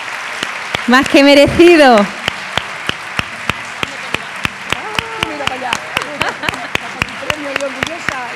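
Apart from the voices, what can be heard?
audience applause at school award ceremony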